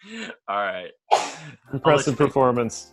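A single sharp sneeze bursts out between stretches of speech as people talk during a game-show-style online session.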